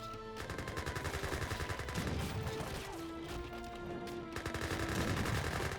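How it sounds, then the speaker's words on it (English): Rapid Gatling gun fire in an Age of Empires-style strategy battle, a dense rattling stream of shots layered with game music and other battle sounds, steady and continuous throughout. "Townsend are getting some decent damage from these Gatling guns"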